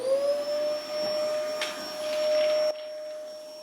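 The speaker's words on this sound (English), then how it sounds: "I will vacuum this up with the vacuum" A vacuum cleaner runs steadily on a garage floor, sucking up gravel and sand with a high whine and scattered rattling bits, then cuts down abruptly near the end, leaving a lower hum.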